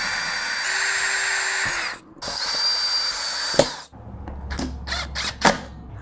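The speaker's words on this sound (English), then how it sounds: "will drill the holes into here and secure this into place" A power drill bores holes for deer feeder brackets, whining in two long runs with a brief pause, followed by clicks, ratcheting and handling knocks.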